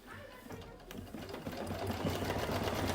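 A Kimberbell embroidery machine stitches out letters with a fast, steady mechanical chatter that grows slightly louder and continues without pause, close up, with faint talk underneath.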